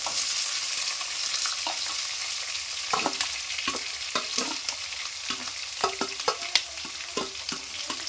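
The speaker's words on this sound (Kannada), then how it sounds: "ಈರುಳ್ಳಿಯನ್ನು ಹಾಕ್ತಾ ಇದ್ದೀವಿ" Onions with green chilies fry steadily in a pan, a continuous close sizzle broken by irregular clicks and scrapes of a spoon stirring, with no voices.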